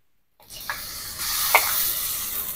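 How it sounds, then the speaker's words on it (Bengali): Ginger garlic paste hits hot oil in a pan, setting off a steady close sizzle that swells and stays bright after a couple of sharp spits, with no talking. "তেল গরম হয়ে গেছে। এখন আমি দিয়ে দিব আদা রসুন বাটা,"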